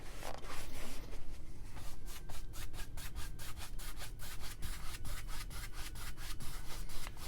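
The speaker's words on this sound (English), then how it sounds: "The crisscross strokes it really helps." A paintbrush sweeps crisscross blending strokes across a canvas while painting a mountain scene, giving a steady run of close, rhythmic scratchy rubs, quick and evenly spaced, with no talking.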